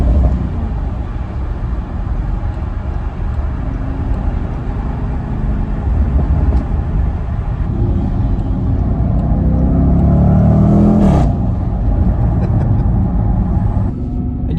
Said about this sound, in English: If you ever get to drive an angry V8 like this, do it.